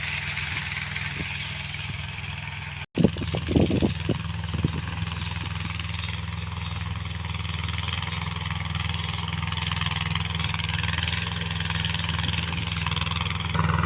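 A Mahindra Jivo 245 DI tractor diesel engine runs at a steady idle nearby, a low continuous throb with a brief knock and rattle early on, then an even drone to the end.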